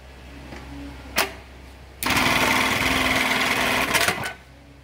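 LK1900BN bar-tacking sewing machine stitching a Z-shaped pattern with Kevlar thread, a brief click, then a close, loud, rapid whirring run of stitches for about two seconds that stops abruptly.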